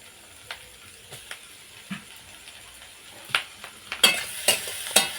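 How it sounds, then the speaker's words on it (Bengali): Chopped tomato goes into browned onions frying in a pan: a faint low sizzle with sparse spatula clicks and scrapes that grow louder and more frequent toward the end, close by with no talk. "পেঁয়াজটা একটু ব্রাউন করে ভেজে নিয়েছি এখন এর মধ্যে দিয়ে দেব একটা টমেটো কুচি"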